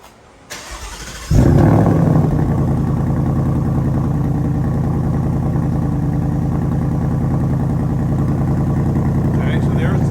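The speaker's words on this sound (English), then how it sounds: "so there's the factory exhaust" A Ford Mustang on its factory exhaust, in regular mode, starts up with a sharp crank and catch, then settles into a loud, steady, deep idle rumble close by, running alone without talk.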